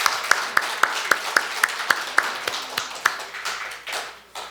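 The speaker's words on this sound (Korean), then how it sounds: "응원의 박수." A small church gathering gives a round of encouraging applause after a prayer for a young man leaving for military service: a few crisp, evenly spaced claps, fairly close, that loosen into scattered clapping near the end.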